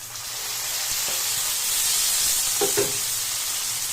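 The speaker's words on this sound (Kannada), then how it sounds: "ಟೊಮೆಟೊ ಸಾಫ್ಟ್ ಆಗಿ ಫ್ರೈ ಮಾಡ್ಕೊಳ್ಳಿ" Chopped onion and a medium tomato frying in a pan for a country-style chicken sambar, a constant close hiss and sizzle with a couple of soft stirring knocks near the end, no talk.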